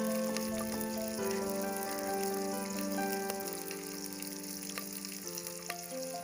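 Dry red chillies, fenugreek seeds and curry leaves frying in hot oil, giving a steady close sizzle with faint crackles throughout, alongside a low sustained tonal hum in the background.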